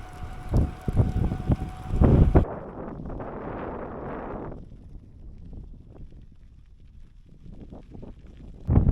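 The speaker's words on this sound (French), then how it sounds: "petit vent à 30 km/h en pleine face" A 30 km/h headwind buffets the microphone during a bicycle ride across the Bolivian salt flats, loud rumbling gusts that swell and ease, with a harsher burst in the first seconds.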